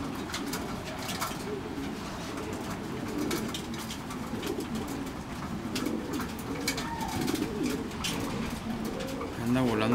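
Racing pigeons in a loft coo steadily in low, throaty rolling calls, several birds overlapping close by, with a voice heard faintly in the background.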